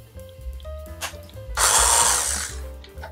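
A power drill whirs briefly in bursts, then bores steadily through a hollow plastic ukulele for about a second at close range with a high whine before stopping.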